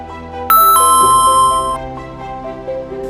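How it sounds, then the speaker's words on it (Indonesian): Loud two-note ding-dong of a doorbell in the Sakura School Simulator video game, ringing once near the start and then fading over quiet game background music. "Siapa yang pencet bel?"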